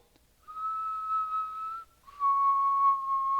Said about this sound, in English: He's not doing the eerie whistle. It's more of an upbeat whistle.